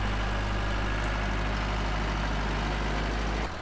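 A tractor engine idles with a steady, low droning rumble close by while a heavy steel plate is lifted, continuous throughout and cutting off abruptly near the end.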